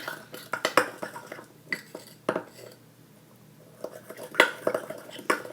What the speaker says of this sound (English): So we're just going to mix.